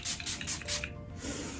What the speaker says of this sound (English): This is Too Faced Hangover 3-in-1 Replenishing Primer and Setting Spray.